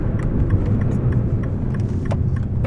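A sports car drives around a small test track, its engine a steady close drone inside the cabin with light rattles and clicks during a heel-and-toe downshift.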